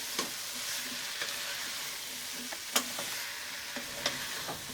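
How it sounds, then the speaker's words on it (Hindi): Chopped vegetables with pav bhaji masala stir-fried on full flame, a continuous close sizzle broken by regular sharp scrapes and clinks of a spatula stirring the pan. "ये देखिए सब्जी को मैंने फुल आंच पे लगातार चलाते हुए 2 मिनट भून लिया"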